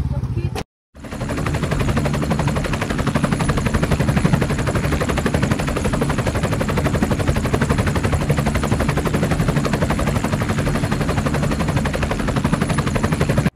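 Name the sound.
helicopter engine running as passengers ride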